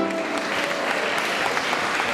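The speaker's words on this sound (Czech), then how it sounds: "zatleskejte mu." An audience at a charity afternoon children's show applauds, a dense, steady burst of clapping from many hands filling the room.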